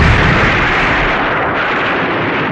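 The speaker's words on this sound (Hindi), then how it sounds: "अभी उसकी आंख लगे हुए बस 15-20 मिनट ही हुए थे कि एक जोरदार धमाका हुआ।" A loud, booming explosion fills the clip with a dense roaring blast that rumbles on and slowly fades without pause.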